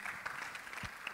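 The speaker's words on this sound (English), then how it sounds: "Big round of applause, please." A crowd claps steadily, a dense wash of applause heard from some distance, with no voices standing out.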